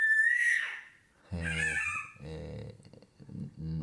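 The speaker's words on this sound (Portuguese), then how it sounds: "Ignore, irmãos, esse grito aqui, tá?" A child screams shrilly during a Portuguese church sermon, a piercing cry at the start followed by louder, wailing bursts of crying voice close by.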